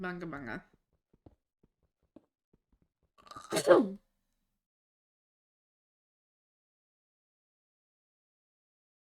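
A single sharp human sneeze bursts out close to the microphone in a quiet room, following a brief spoken phrase and a few faint clicks, then silence.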